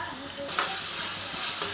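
Cut green chili added to a hot pan for Tamil keerai rice, with a continuous close crackling sizzle and soft stirring scrapes.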